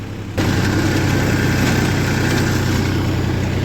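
A tractor engine runs steadily with a rotavator attached while tilling three-year-old sugarcane trash in a field. The loud, continuous rumble starts abruptly after a brief quieter moment and holds an even drone alone, with no talk.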